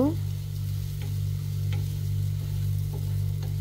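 Thinly sliced onions fry in oil with a soft, steady sizzle and occasional light stirring ticks, laid over a constant low mechanical hum.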